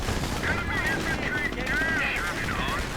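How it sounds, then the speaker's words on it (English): Rapid small-arms and machine-gun fire crackles with heavier weapon impacts in a WWII strategy video game battle, dense and continuous under a commentator's voice. "Oh dear, Panzerschreck hits."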